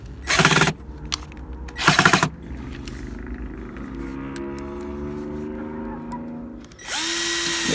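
A power drill drives screws into recycled wood while a chicken coop is assembled, two loud short whirring bursts early on, then a steadier tool hum, and a final burst near the end.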